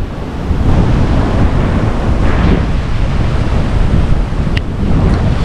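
Rough surf pounds a rocky black-and-brown lava shore in Hawaii, a loud, continuous roar of breaking waves mixed with gusty wind buffeting the microphone.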